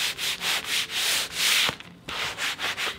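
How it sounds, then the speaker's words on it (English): Brown craft paper is rubbed lightly over a milk-painted wooden hall tree, producing rhythmic back-and-forth rasping strokes, close and fairly loud with a brief pause midway and no talking. "we're using a piece of brown craft paper. A brown paper bag will work too. And we're just gonna go over this lightly and smooth out any like texture"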